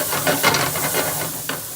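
Carrots frying in bacon grease in a pan, a loud close hiss and sizzle with crackling bursts and a little stirring, no voices.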